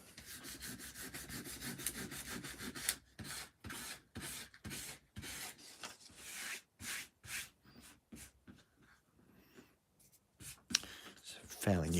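Sandpaper rubs back and forth across a model house board in a series of rhythmic, scratchy strokes, first quick and continuous, then in separate bursts with short pauses, close and clear.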